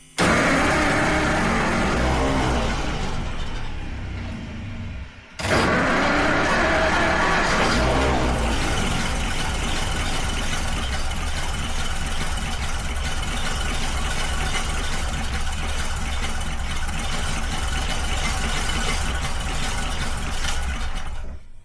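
A 100-year-old moonshiner's car, parked for 55 years, roars at wide open throttle, a loud sustained engine drone with a brief dip near the start before surging again and holding steady, close up with no talking.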